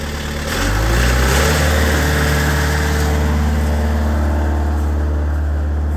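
A truck engine running a PTO winch during an off-road recovery revs up as the throttle is opened, then holds a loud, steady drone close by with no talking.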